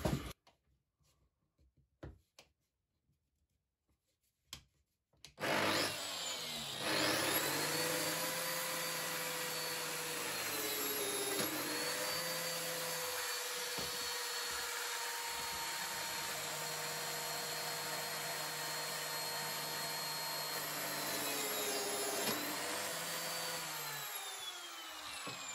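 Lamello Zeta P2 biscuit joiner cutting wood with dust extraction attached: after a few quiet handling knocks, a steady high whining motor and extractor roar runs continuously, with the pitch dipping briefly as the blade cuts.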